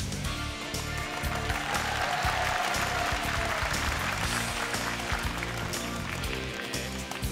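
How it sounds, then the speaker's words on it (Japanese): An audience applauds the winning team at an arcade game tournament, a dense, sustained wash of clapping that fills the whole stretch at a steady, moderate level. "優勝チームに今一度大きな拍手をお願いします"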